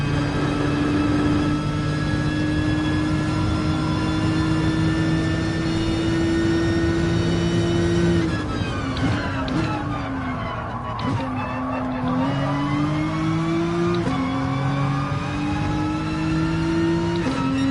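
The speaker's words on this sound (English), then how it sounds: "You can just hear the tyres squealing so much more." Race car engine in Gran Turismo Sport, a GT4 race, droning loudly and steadily with gear changes and revs dipping midway, while tyres squeal under the engine note throughout.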